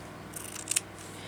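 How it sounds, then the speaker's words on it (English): Scissors snipping through fabric pieces for a handmade tag, heard as a couple of quick, close, quiet cuts in a hushed room. "I'm just going to cut off some random pieces and then I'm going to stitch them on there"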